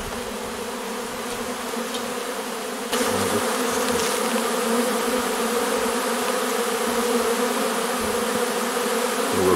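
A huge honeybee swarm pours into a Dadant hive, making a dense, continuous buzz of many bees close by. The buzz steps up sharply in loudness partway through and stays full and steady to the end.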